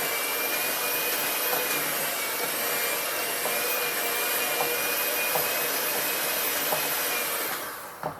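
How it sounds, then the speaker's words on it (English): Electric mixer beating powdered sugar into cream cheese and butter for carrot cake frosting: a steady, close, high-pitched motor whir that holds constant for several seconds before winding down at the end. "now I'm gonna mix the powdered sugar with the cream cheese"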